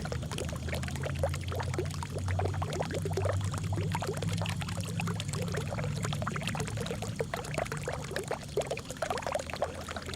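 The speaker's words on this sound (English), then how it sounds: "And the little fountains." Small ornamental fountains splash and pour steadily, a continuous close wash of falling water with no voices.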